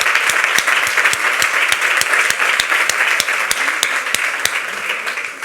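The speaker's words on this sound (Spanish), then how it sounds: "Un aplauso para Ana." A conference audience claps loudly and continuously, a dense even wash of applause with a few sharper individual claps standing out, and no talking over it.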